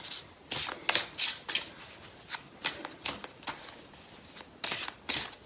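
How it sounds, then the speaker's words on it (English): A deck of tarot cards is shuffled near the microphone in repeated quick riffles and flutters, with about a dozen crisp bursts in an uneven rhythm and no talking. "I'm just going to shuffle and see how many cards"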